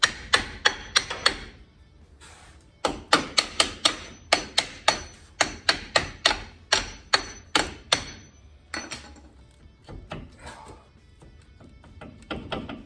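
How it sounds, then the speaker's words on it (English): A carpenter's hammer taps repeatedly on S10 4x4 brake parts in a weld shop, sharp bursts of quick strikes separated by short pauses, loud and close with a faint background hum. "a carpenter's hammer"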